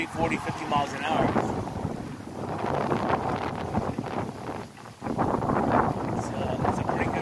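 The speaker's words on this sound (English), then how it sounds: "So this wind is gusting to like 30, 40, 50 miles an hour." Strong wind gusting to 30 to 50 miles an hour on Fort Myers Beach, Florida, roars and buffets the microphone steadily during a bicycle ride, with a brief lull near the end, while a voice talks faintly underneath.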